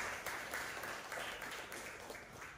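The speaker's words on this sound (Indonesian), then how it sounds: "Tepuk tangan buat Isya." A classroom of students applauds a classmate, a brief, faint patter of clapping that holds steady and fades slightly toward the end.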